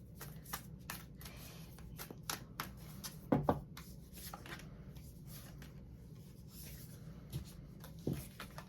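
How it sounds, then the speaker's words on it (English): A deck of oracle cards being shuffled up close, with soft repeated riffles and slides and an occasional sharper flutter. "I'm shuffling these Moonology Oracle cards."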